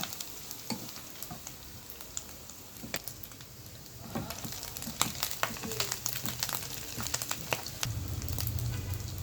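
Egg and fried chicken with onion and green chilli sizzle in a hot pan with scraping stirs, the frying growing louder and denser toward the end.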